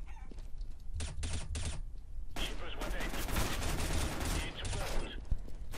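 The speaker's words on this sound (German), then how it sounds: "Ich finde das Headshot-Geräusch ja so schön." Gunfire bursts from the Counter-Strike: Global Offensive video game, including the headshot sound effect, with several sharp shots early and then a dense, loud stretch of rapid fire and impacts, under faint talk.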